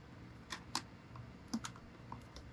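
A GoPro chin mount being pushed into a motorcycle helmet gives several small, sharp plastic clicks and taps, spaced irregularly and quiet.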